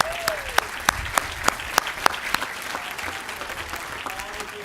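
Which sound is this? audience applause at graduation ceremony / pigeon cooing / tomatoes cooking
audience applause at graduation ceremony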